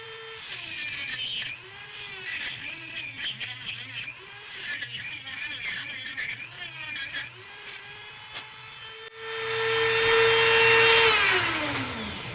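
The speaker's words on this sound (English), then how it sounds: "Now I'm going to take my Dremel bit, and I've got just a bi-material cutting bit burr on there." A Dremel rotary tool fitted with a cutting burr drills into a wooden fishing decoy, its high motor whine steady at first, then loading up near the end and spinning down, with someone talking over the grinding.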